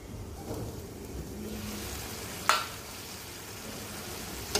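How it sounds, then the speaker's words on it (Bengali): Okra, potato and shrimp curry sautés in hot oil, a soft steady sizzle with a muffled stirring rustle and a sharp click midway. "তেল উঠা পর্যন্ত এটা কষাতে থাকবো।"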